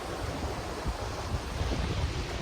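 Rough water slaps the shore at a Hudson River beach at Croton Point Park on a windy day, a steady broadband wash of surf mixed with wind buffeting the microphone, with no talking.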